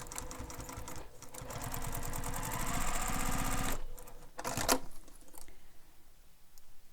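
A sewing machine stitches through a bowler bag in a rapid, steady run of needle strokes, pauses, then sews another short burst before stopping.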